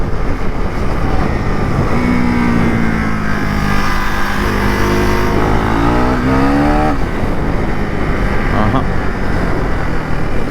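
Husqvarna Svartpilen 401 motorcycle engine pulling through a short corner, a steady loud drone whose pitch sinks, then climbs sharply as the throttle opens, with wind rush throughout and a voice talking over it.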